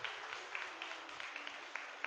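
A congregation at Sunday Mass in a church applauding, a steady, even wash of many hands clapping at moderate distance with no talking over it.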